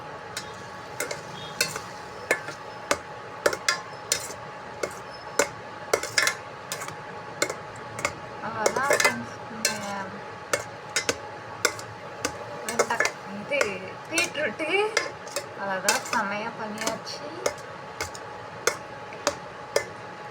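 Spoon stirring a cumin-ground mixture in a pan, steady scraping and clinking strokes with light sizzling underneath, close and continuous, with brief talk in between.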